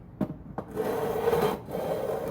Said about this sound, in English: with this fret leveling file